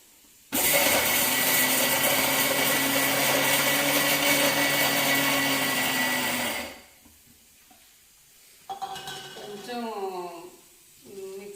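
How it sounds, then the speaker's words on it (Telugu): An electric mixer grinder whirs loudly and steadily for about six seconds while blending spices for a broccoli curry, then cuts off, followed by someone talking. "అవన్నీ వేసేసి మనం మిక్సీ చేయాలన్నమాట."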